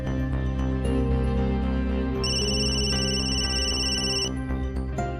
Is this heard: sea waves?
no